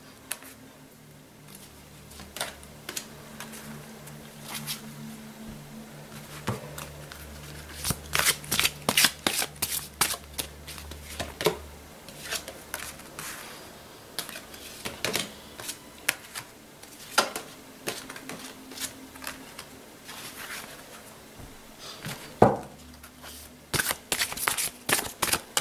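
A deck of cards shuffled for a tarot-style card reading, bursts of riffling and flicking repeating in short runs, close and fairly quiet, with no talk.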